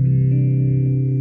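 Sustained electric guitar chord with a ninth extension, colored by effects such as chorus, echo and light distortion, ringing steadily and alone at close range for about a second.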